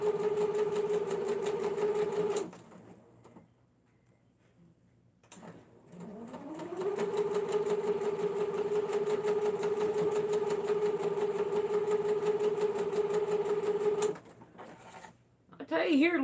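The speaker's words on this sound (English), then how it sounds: "And now we're going to sew this one all the way down." A sewing machine runs steadily while stitching a seam, with a close, even whirring hum that stops briefly, starts up again for several seconds, then cuts off. No one talks over it.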